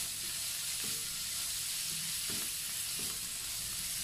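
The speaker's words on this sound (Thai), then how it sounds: "เราจะผัดให้เนื้อสุกนะคะ" Beef sizzling as it is stir-fried in a hot pan for beef fried rice, a steady loud frying hiss with several soft scraping stirs of the spatula, close and alone.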